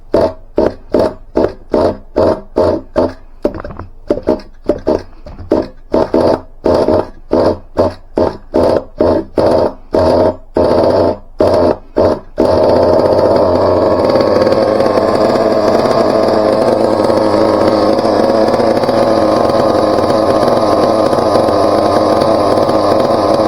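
A Team Associated MGT 4.6 nitro RC truck engine revs in rapid stuttering bursts with sharp cutouts, then settles into a continuous loud buzzing run, close and alone without talk.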